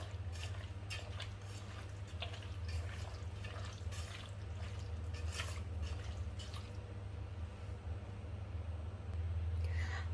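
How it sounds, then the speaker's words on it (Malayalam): Water poured from a vessel into the pot that held beef heart pieces mixed with salt in a Kerala-style beef heart roast, a steady close trickling and splashing that lasts throughout, with no talk. "ആ ഹാർട്ട് വെച്ചിരുന്ന ആ പാത്രത്തിൽ അല്പം വെള്ളം ഞാൻ ഒഴിച്ചു കൊടുക്കുകയാണ്"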